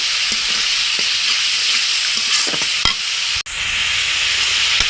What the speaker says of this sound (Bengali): মশলাটা একটু ভালোভাবে একটু ভাজা ভাজা করে নেব।